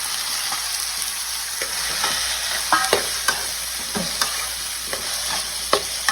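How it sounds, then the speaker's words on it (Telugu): Fried onions and tomatoes cooking in a pan, a close steady sizzle with repeated scraping stirs and spoon knocks against the metal, no voices. "ఆనియన్స్ వేగిన తర్వాత దీనికి 10 టొమాటో యాడ్ చేయాలి."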